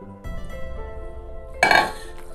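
A larger basin for mixing meat filling is swapped in and set down: brief knocks of the bowl followed by a sharp metallic clatter of kitchenware near the end.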